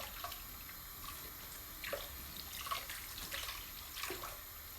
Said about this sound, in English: It was just the hot water running